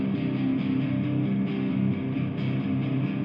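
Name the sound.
electric guitar recorded DI directly into computer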